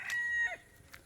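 Chickens on a vegetable-garden farm, with a short rooster-like call followed by a few fainter clucks, fairly close and heard alone.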